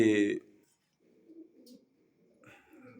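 Soft, low pigeon coos murmur in short bursts after a brief voice, quiet and close with small pauses.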